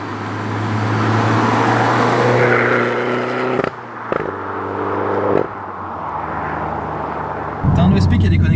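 A Citroën DS3 Performance with an aftermarket silencer revs hard, its exhaust giving a loud raspy drone with rising and falling engine pitch and a few sharp cut-offs between revs, with a voice talking over it.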